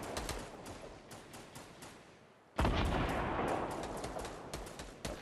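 Gunfire in a large 50v50 video game match, repeated sharp shots hammering steadily at a wall, then a sudden louder burst of rapid fire that keeps going with scattered cracks, loud and close, with no talk over it.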